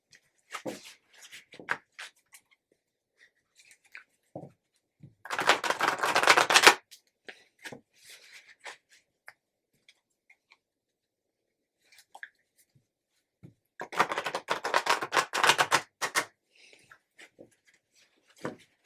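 Two distinct bursts of tarot cards being shuffled, each lasting a second or two, separated by soft handling noises and near silence.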